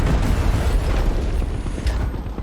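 Heavy booming explosions from a tank battle in the video game Far Cry 6, deep rumbling blasts rolling one after another, loud and close, with no talk.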